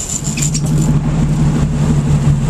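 A boat engine rumbling steadily at low speed on a fishing boat offshore as it is put in gear, a close, loud, continuous drone with no talk over it.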